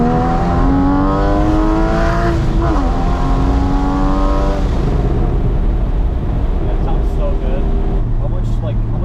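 A Porsche 981 Spyder with aftermarket headers revs hard on a mountain highway, engine note climbing in steps through the gears, loud and close from inside the car, with people talking over it.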